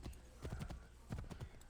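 Horse hooves clip-clop in the video game Assassin's Creed III Remastered, a quick uneven rhythm of hoof strikes in two short bursts, fairly close and moderately loud with no talking over them.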